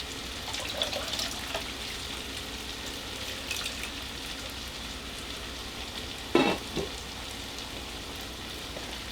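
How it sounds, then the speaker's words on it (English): Canned corn and its liquid poured from the can into a cooking pot for picadillo, a steady wet pouring and sizzling wash with a brief louder splash near the end; no talking. "So I'm going to go ahead and pour this into the pot."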